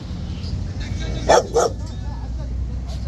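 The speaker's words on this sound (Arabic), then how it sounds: "هذا كلب اكيتا امريكي" An American Akita at a pet market street in Baghdad gives two short barks in quick succession over steady background noise and chatter.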